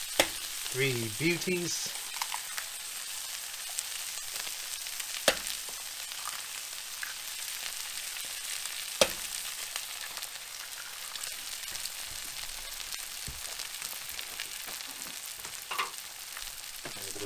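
Eggs sizzle and crackle in hot oil in a pan on a small off-grid cooktop, a steady close frying hiss with a few sharp pops, while a voice briefly speaks near the start.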